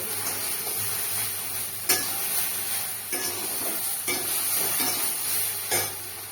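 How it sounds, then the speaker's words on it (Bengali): Okra and potatoes with turmeric and salt fry in a pan on low gas, a steady sizzle broken by a few sharp scrapes and knocks of a spoon stirring, close and alone without talk. "আমি হলুদ আর লবণটা দিয়ে দিয়েছি, এবার এটা ভাজতে থাকি, ভালো করে ভেজে নেব।"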